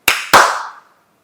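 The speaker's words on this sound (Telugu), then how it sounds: "సో లైట్స్ ఒకసారి చప్పట్లు కొడితే వస్తాయి అంటే టెస్ట్ చేద్దాం." Two sharp hand claps close together, the second slightly louder, ring out in a quiet room in a home to trigger clap-activated lights, followed by a short fading echo.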